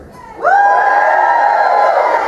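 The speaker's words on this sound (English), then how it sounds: "let me just have a little cheer" A burlesque show audience bursts into loud, sustained cheering and whooping after a short quiet moment, many voices shouting together close up.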